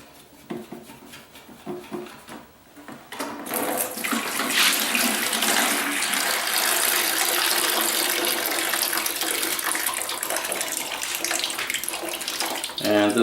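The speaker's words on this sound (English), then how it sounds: "It's also going to cause the rest of the water to drain out." Water rushing and draining out of a toilet tank during a full toilet rebuild, a loud continuous gurgling flow that starts after a few seconds of quieter handling noises and runs steadily to the end.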